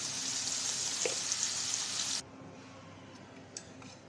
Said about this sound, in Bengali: গাজর আলু গাজরগুলো একটু ভেজে নেব